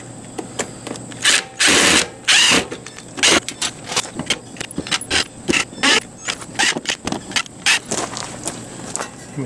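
A power drill backs out the screws holding a tankless PrecisionTemp water heater in the wall of an RV travel trailer, with short whirring bursts and intermittent rattles and clicks.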